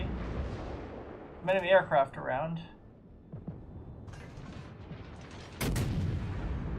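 Warship guns boom and rumble during a World of Warships naval battle, a couple of heavy blasts with a sharp final report, while a person talks over the action.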